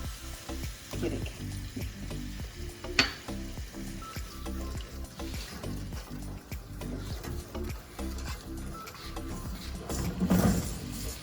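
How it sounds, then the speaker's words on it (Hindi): Soy sauce sizzles in a hot frying pan while orange chicken sauce cooks, a steady close crackle and hiss with brief clinks from a utensil. "अब इसके अंदर हम ये सोया सॉस डालेंगे।"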